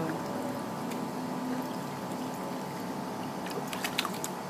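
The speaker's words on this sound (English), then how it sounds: "You like splashing around?" Baby splashing water with her feet in a small baby pool, a soft, continuous watery sloshing with faint light splashes, close by and steady throughout.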